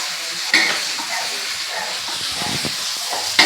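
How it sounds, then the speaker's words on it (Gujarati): Rice being tempered (vaghar) in a pan gives a steady broad sizzle and hiss with faint stirring, and two sharper spits or crackles burst out near the start and the end. "મમ્મીએ ભાત વઘાર્યો"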